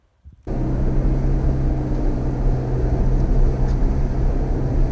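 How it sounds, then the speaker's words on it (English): A Pajero Mini's tiny engine drones steadily in 4-low first gear as it engine-brakes down a steep slope on a volcano road, starting abruptly after a brief quiet and holding a loud, even hum throughout. "Let that tiny engine do all the braking."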